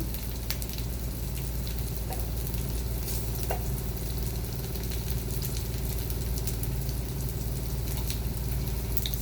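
Salmon patties fry in hot oil with a loud, constant sizzling hiss and scattered sharp pops and crackles, continuing unbroken throughout.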